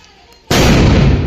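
After a quiet moment, a Diwali firecracker bursts with a sudden loud crackling blast that stays dense and noisy to the end.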